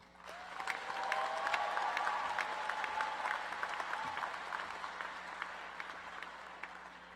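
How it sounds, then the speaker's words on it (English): A commencement crowd at NCCU's winter ceremony gives sustained, dense applause welcoming the speaker to the podium, steady and fairly distant with a few scattered cheers and a low hum underneath. "At this time, we now welcome to the podium with a rousing applause our commencement speaker, Ms. Tisha Powell."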